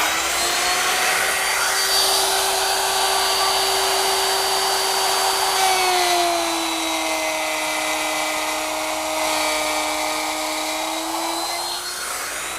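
A router fitted with a half-inch bit, guided along a T-square, cuts a groove with a loud, sustained whine that dips slightly in pitch partway through as it bites into the wood, running alone for about twelve seconds.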